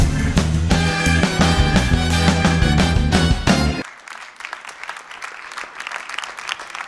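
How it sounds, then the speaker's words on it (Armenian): Loud audience applause at a stage event, dense clapping for almost four seconds before cutting off abruptly into quieter scattered sound. "Ծափարում ենք ավելի բարձր"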